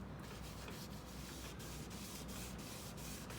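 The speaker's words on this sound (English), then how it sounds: "if you watch closely, you'll see what it does as I rub it in" Restore-A-Finish is rubbed by hand into a wooden sewing table with a cloth, a quiet, steady scrubbing swish in repeated strokes, close and faint, with no talking over it.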